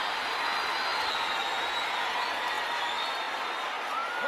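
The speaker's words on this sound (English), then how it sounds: "Crowd likes the knockdown, though." A boxing arena crowd roars in a steady, broad wash of cheering after a knockdown in the 2008 Roy Jones Jr vs Felix Trinidad fight.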